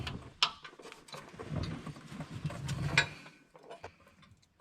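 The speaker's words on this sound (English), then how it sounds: "got the right wrench now" A wrench works on the stuck canister filter of a 1958 Willys Wagoneer, giving quiet, close ratcheting clicks, metallic ticks and scraping rubs in an uneven rhythm.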